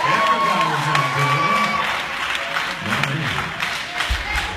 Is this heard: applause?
yes